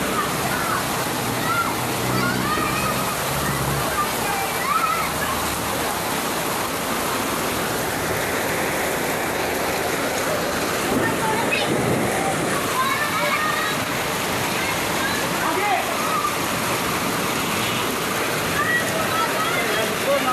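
Floodwater rushing like a deep river over a road in Santa Cruz, a loud, steady broadband roar of churning, splashing water throughout, with someone talking over it.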